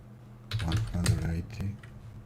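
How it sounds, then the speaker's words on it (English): A short burst of keystrokes tapped on a computer's numeric keypad, quiet and close, with a voice speaking over the clicks. "typing 180 on numerical keyboard"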